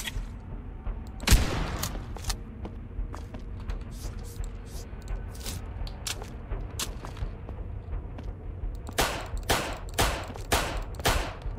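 Shotgun and pistol gunfire in the survival horror video game Dead Beacon, with one heavy blast early and then a rapid cluster of loud sharp shots near the end, over a low game ambience.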